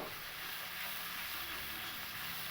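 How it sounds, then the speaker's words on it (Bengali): A ginger, tomato and spice masala for paneer fries in a pan with a steady, soft sizzling hiss, even and continuous throughout, with no voices. "আদা আর টমেটোর কাঁচা গন্ধ চলে যাওয়া পর্যন্ত মশলাটাকে খুব ভালো করে একটু কষিয়ে নিয়েছি"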